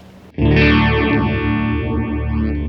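Distorted electric guitar chord through an EMS Synthi Hi-Fli pedal's phaser, its sweeping whoosh gliding down and back up as the note sustains, loud and up close.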